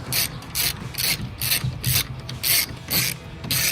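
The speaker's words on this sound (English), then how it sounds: "Just screw that out, set that somewhere, and repeat the process on the other bolt." A ratchet wrench clicks repeatedly while backing a bolt out of a Jeep Wrangler JK door hinge, close bursts of sharp pawl ticking in an even back-and-forth rhythm, roughly eight strokes.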